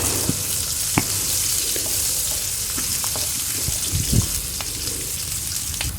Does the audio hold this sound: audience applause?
no